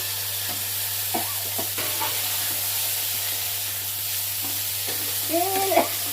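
Marinated, softened cauliflower fries in a pan with a low, constant sizzle and occasional light stirring knocks over a steady background hum, with no talking.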